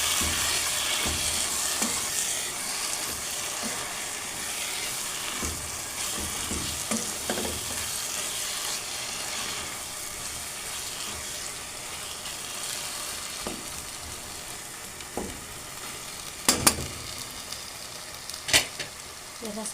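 Tomatoes fry in a pot as they are stirred with a plastic or wooden spoon, making a steady, close sizzle with a few sharp scrapes and clinks near the end.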